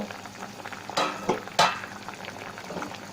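Carrots simmer in an open pot, giving a quiet bubbling and sizzling texture broken by two brief louder splashy stirring bursts, with no voices present.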